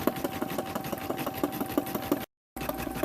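Embroidery machine stitching an applique design onto balsam wood, a rapid, even mechanical chatter of needle strokes with a steady whine, close and continuous, cut by a brief silent gap before resuming.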